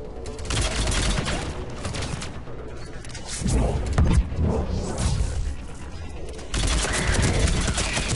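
Dense, continuous bursts of gunfire and explosions roar loudly in the video game Mass Effect 3, with heavy booms swelling midway and near the end.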